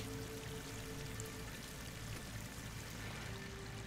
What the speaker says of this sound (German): Das Wasser kommt.